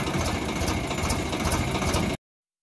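Swaraj 735 XT tractor running a rotavator in a field, its engine a loud, steady, rattling drone close by that cuts off abruptly.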